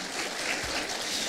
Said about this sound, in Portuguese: Uma salva de palmas ao Aveleda.